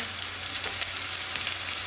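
Eggplants fry in a pan with a little olive oil, producing a dense, continuous crackling sizzle that stays even and close throughout, with no voices.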